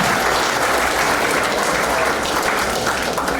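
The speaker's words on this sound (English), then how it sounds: "give me a round of applause" Dense, sustained applause from a large audience at a hall of fame induction ceremony, loud and continuous throughout with no talking.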